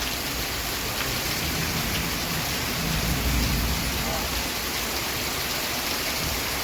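Heavy rain pours steadily throughout, a dense continuous hiss of drops close by with no letup.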